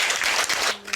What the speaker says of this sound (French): est-ce qu'on peut applaudir pour accueillir notre invité du jour